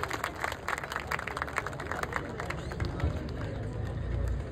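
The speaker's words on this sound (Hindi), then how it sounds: "सो जोरदार तालियां क्लैपिंग।" An audience claps at a bodybuilding championship, fairly distant and scattered, mixed with crowd murmur and low rumbling room noise.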